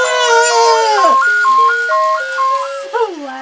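A Santa car toy blares a loud, tinny electronic jingle, a stepped melody of clear beeping tones that dominates throughout before a short warble near the end, very close and harsh.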